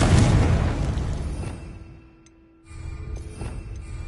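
A Confringo fire spell explodes in Hogwarts Legacy with a loud, booming burst that rumbles and fades over about two seconds before a lighter crackling rush of game effects resumes.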